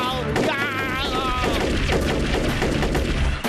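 Cartoon gunfire in a comedy space adventure, a loud, dense rapid burst of shots hitting characters that runs the whole moment, with bright electronic whines layered over the volley.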